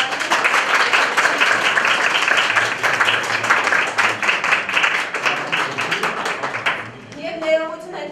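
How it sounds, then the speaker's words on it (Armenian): An audience at a school event applauds in sustained, dense clapping for about seven seconds before it fades and a voice starts speaking. "ծափարենք, շնորհակալություն"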